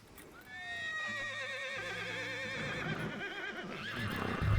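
Horses ridden in the Red Dead Redemption video game, with a loud, wavering whinny ringing out over rhythmic hoof clip-clops and the rumble of movement close by.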